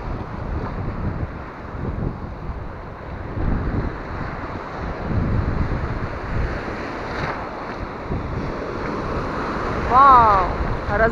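Sea waves breaking against stones on a beach at Stepanovka, Ukraine, a loud continuous wash and rumble with heavy wind buffeting the microphone and a louder surge near the end.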